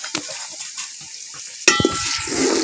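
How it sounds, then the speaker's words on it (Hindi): Onions frying in ghee in a pot, a steady close sizzle with scraping stirs and a sharp clatter of a spoon against the pan partway through, no talking. "सबसे पहले हम 1 कप घी डाल के प्याज फ्राई करेंगे।"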